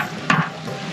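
Ground cumin paste drops into hot oil with sizzling spices and gets stirred, giving a short burst of frying and scraping before a softer sizzle continues, close and alone.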